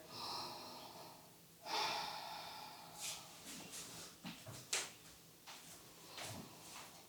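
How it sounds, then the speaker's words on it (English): Slow, controlled breathing during a yoga balance pose, with long airy inhales and exhales close to the mic, then a few soft thumps and shuffles. "Breathing here."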